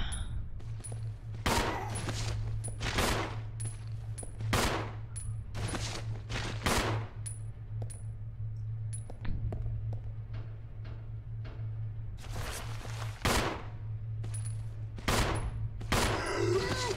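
Sharp pistol shots in the survival horror game Resident Evil Zero, a dozen or so loud single cracks fired in irregular clusters over a low steady hum of ambient game sound.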